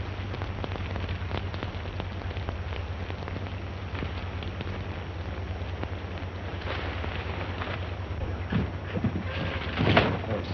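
Rain patters steadily outdoors in a black-and-white 1938 drama, a soft, continuous spatter of drops under a low hum, with a few sharper knocks toward the end.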